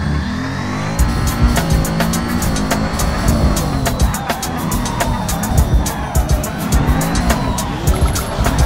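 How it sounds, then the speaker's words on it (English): A drift car on the Russian Drift Series circuit slides through a run with long, loud tire squeals layered over a steady, revving engine roar that stays close and continuous throughout. "Show us a really good drift!"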